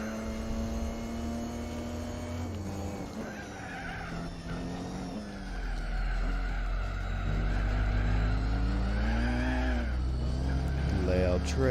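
Racing cars in Gran Turismo 4 during a 1000-mile endurance race featuring a Mini Marcos GT, with loud, steady engine drone and tire squeal from traffic that rises and shifts pitch continuously throughout.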